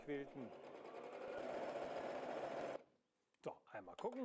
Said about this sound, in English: lower the foot and start the machine. Now you can do proper free motion quilting.